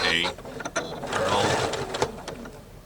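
A sewing machine stitching through a sandwich of batting between two pieces of fabric, giving a steady close mechanical whirr and clatter with a voice talking over it.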